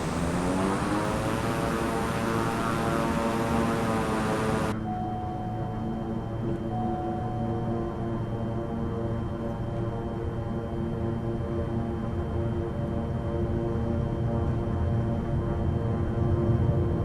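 Beechcraft King Air 350i turboprop engines spooling to full throttle with the parking brake on, a loud, steady propeller drone with a rising whine that suddenly cuts in pitch and then holds a constant roar.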